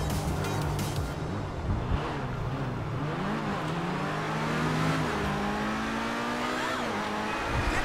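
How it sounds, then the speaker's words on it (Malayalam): Bugatti Bolide supercar in GTA 5 accelerating hard, a loud continuous engine roar rising and falling through gear changes with rushing road noise, steady throughout with no talk. "ആക്സിലേറ്റർ ഒന്ന് കൊടുത്തതേ ഉള്ളൂ അപ്പോഴത്തേക്കും നല്ല പവറിൽ കയറി പോകണം"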